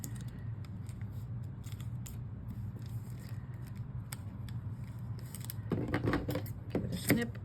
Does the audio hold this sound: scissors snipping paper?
yes